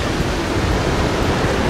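Sea waves wash onto beach sand in a steady, loud, broadband rush with no breaks, heard up close and alone.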